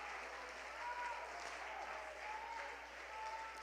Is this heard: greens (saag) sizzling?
no